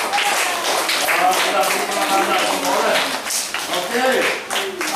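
Classroom of students clapping together for a classmate named Aziza, a dense steady patter of many hands filling the room from start to finish, with children's voices mixed in.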